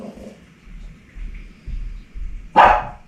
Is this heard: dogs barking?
yes